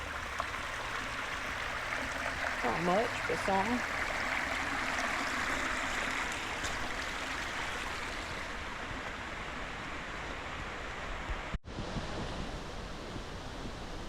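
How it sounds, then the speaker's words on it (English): Steady broadband rushing of water flowing over a small creek crossing on the Ramsey Cascades trail, continuous and fairly close, with a brief spoken comment partway through. "There's a little creek crossing here."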